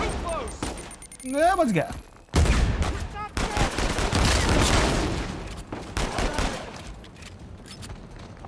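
Shotgun gunfire in the video game Uncharted 4, set in Madagascar: a sharp blast and a dense stretch of loud, booming shots and game effects, with someone talking over it.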